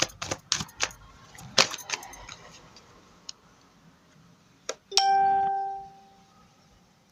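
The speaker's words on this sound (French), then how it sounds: "j'ai oublié de mettre les ding-ding, les notifications sur silencieux" Phone notification dings go off during a talk about the new moon in Cancer: a cluster of sharp clicks and taps at first, then one clear ringing chime that sustains for about a second and fades.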